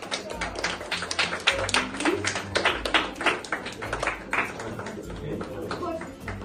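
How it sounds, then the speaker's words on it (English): An audience at a math circle awards ceremony claps steadily for a second-place winner, a brisk, fairly close patter of hand claps with voices mixed in. "Good job, everybody clap!"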